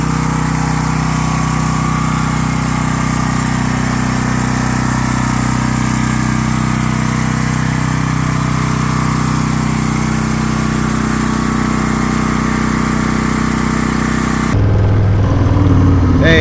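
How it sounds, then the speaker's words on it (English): A propane-powered generator runs steadily with a continuous engine drone and hum at close range, holding level throughout before a brief shift in tone near the end. "There's the generator. Running off the propane."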